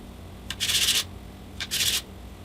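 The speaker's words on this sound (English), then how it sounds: "I just use some 220 grit sandpaper and just lightly sand the surfaces and the corners to get rid of all of those fuzzies." Sanding wood laminate strips for guitar rosette rings by hand with 220 grit sandpaper: two short raspy strokes, each about half a second, close and clear against a quiet room, no speech.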